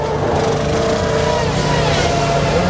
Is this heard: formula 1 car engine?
yes